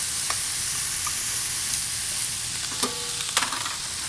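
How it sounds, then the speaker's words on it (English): Garlic, onions and celery sauté in a pan for a short rib braise, giving a steady close hiss of sizzling with a couple of faint utensil clinks near the end and no speech. "Nice and sauteed. You can start to smell the garlic and the onions and the celery."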